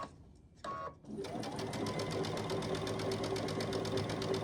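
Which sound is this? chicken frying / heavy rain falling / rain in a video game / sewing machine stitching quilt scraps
sewing machine stitching quilt scraps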